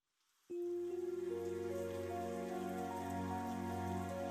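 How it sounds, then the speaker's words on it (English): Night rain falls in the video game Trails of Cold Steel 3, a steady soft patter that starts abruptly and continues under sustained ambient tones, with no speech. "It's a lovely night rain."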